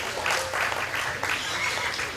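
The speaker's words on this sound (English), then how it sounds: "Let's give the exhibitors that brought one out today a nice round of applause." Applause from the crowd at a Washington County Fair hog show, honoring exhibitors in a progressive gilt class: steady, dense clapping that holds for the full two seconds, fairly close and unbroken, with no talk over it.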